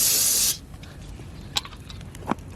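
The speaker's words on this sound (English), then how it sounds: "add a little brake cleaner" Brake cleaner sprays from an aerosol can onto a freshly hammered-out polyurethane sub-frame bushing, a loud steady hiss for about half a second that cuts off sharply, followed by faint clicks and handling noises.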